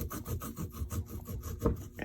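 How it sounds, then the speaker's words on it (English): Fresh ginger root being grated by hand for a stir fry, producing a steady run of close, rhythmic raspy scraping strokes with no talking. "I just wanted to show you how I grate the ginger."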